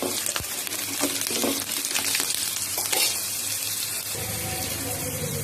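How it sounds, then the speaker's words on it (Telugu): Garlic and cashews fry in hot oil for an Andhra-style mango pickle, a steady close sizzle with scattered stirring clinks and scrapes throughout. "ఇందులో వెల్లుల్లిపాయ కూడా కొంచెం వేసుకున్నాము జీడిపప్పు అన్నీ లైన్గా ఫ్రై అయిపోతాయి"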